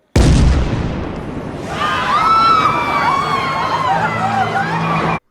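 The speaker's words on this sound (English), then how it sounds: "remotely detonated a bomb to cover his escape" A bomb explosion sound effect set at a crowded fair, a loud booming blast at the start that decays into a sustained rumbling roar with scattered high whistling and ringing tones above it.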